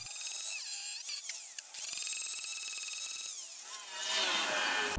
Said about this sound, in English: The extra thread is ground off these as well.